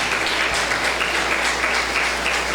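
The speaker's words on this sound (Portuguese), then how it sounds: "Você pode aplaudir ao Senhor Jesus?" A church congregation at a celebration service claps loudly and steadily, a close, continuous wash of applause with no pauses.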